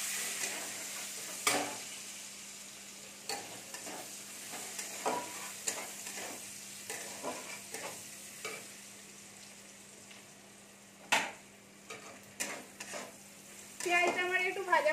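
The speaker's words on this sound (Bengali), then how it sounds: "পেঁয়াজটা একটু আমি ভেজে নেব" Finely chopped onions sizzle in a pan over spices for a Bengali dish, with a steady fry under a string of sharp scraping stirs from a utensil, ending in a busier clatter.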